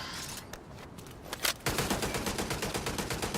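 An automated turret in The Division 2 fires a rapid, steady stream of shots after a few scattered cracks and a scrape, each report evenly spaced and fairly close.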